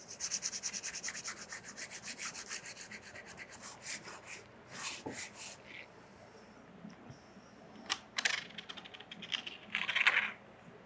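A wooden dowel rubbed back and forth over paper laid on an inked linocut block, giving a steady dry scraping and rubbing that runs throughout, with a few louder strokes toward the end.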